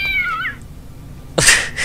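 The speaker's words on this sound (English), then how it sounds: "That cat sound effect is about as well known as the Wilhelm scream." A cat meow sound effect from the video game Blood Omen 2: a short, clear, wavering meow up close, followed after a pause by a louder, harsher yowl.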